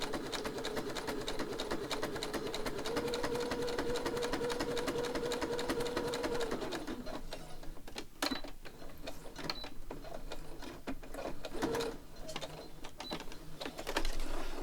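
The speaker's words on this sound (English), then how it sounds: "I'm going to sew all the way along so it looks sort of like double stitching." A sewing machine stitches all the way along the edge of a paper ephemera piece for a double-stitch look, running steadily and close for several seconds, then stopping, followed by scattered handling clicks and a brief restart.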